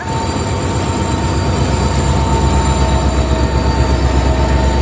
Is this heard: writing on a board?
no